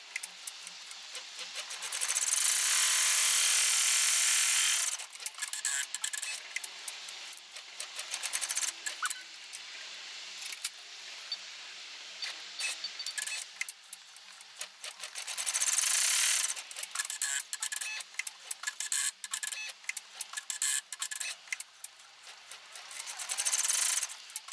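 An embroidery machine stitches out a tweezer snap pouch in the hoop, a rapid, steady mechanical clatter of needle strokes broken by brief pauses and bursts of faster high-pitched whirring, close and without talk.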